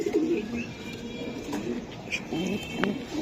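Low, throaty coos of racing pigeons repeat close by, several birds overlapping in a soft, rolling murmur.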